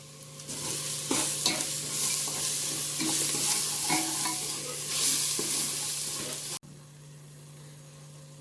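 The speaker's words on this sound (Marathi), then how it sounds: "तिखट तुमच्या आवडीनुसार, हळद 1 चमचा. मस्त असं परतून घेणार आहोत." Pav bhaji being sautéed with chili powder and turmeric, a loud, close sizzle with repeated scraping and stirring strokes for about six seconds, then a sudden cut to quieter background.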